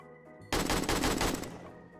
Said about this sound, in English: let's try to go in here and fire a weapon